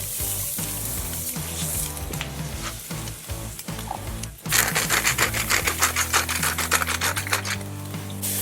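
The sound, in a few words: smash burger patties sizzling on the grill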